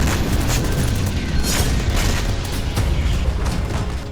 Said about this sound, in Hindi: ताबड़तोड़ फायरिंग का यह वीडियो बाखमुट के क्लिश्चिवका का है